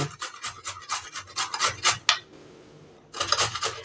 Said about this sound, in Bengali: এবার এটাকে বড় ফুটোটার সাহায্যে এইভাবে গ্রেট করে নেব